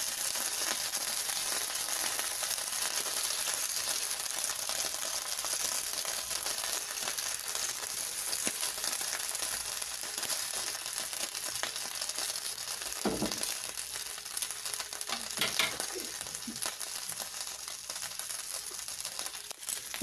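Steady crackling sizzle of chicken quesadilla tortillas crisping in a frying pan, continuous and close, with a few sharper pops and crinkles near the end and no talking.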